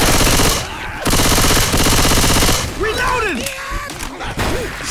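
Rapid automatic gunfire in the zombie shooter Left 4 Dead 2, loud and close in sustained bursts with brief gaps, followed by softer thuds and game effects as a player's voice calls out over it.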